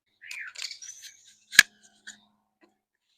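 A garden tap fitting is cut to length with a few faint squeaks and scrapes, then one sharp snip-like crack from the cut and a small click after it, close and otherwise quiet.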